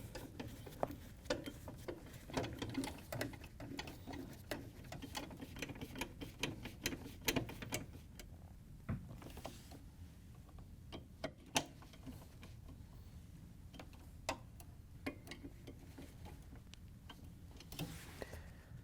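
New bolts cut their own threads into a Frigidaire/Electrolux condenser fan motor, heard as faint, steady ratcheting ticks and clicks at close range in a quiet room.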